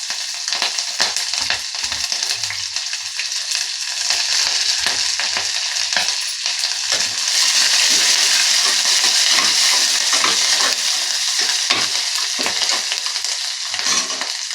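Green chillies sizzle and spit in hot oil in a pan for rice rava uppittu, a loud continuous crackle with scraping stirs throughout, no talking.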